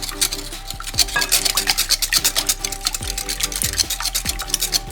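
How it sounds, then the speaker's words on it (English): A whisk beats a bread pudding custard mixture in a bowl with quick, regular clinking strokes, loud and close, alongside a low steady hum. "I'm just going to whisk all of this together to combine it"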